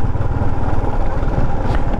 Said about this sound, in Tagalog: Ayan, so nakakadaan naman yung tricycle.